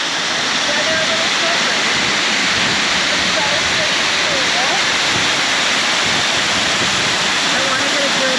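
Waterfall at Lares, Puerto Rico, a loud, continuous broadband rush of falling water filling the whole clip with no pauses.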